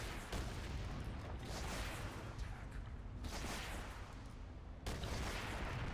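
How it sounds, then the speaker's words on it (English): Mammoth tank missiles striking in Renegade X, a continuous roar of blasts and rumbling impacts with several sharp surges, loud and close, with no talking. "Ah, Mammoth tank. So this thing will have missiles which just hit me."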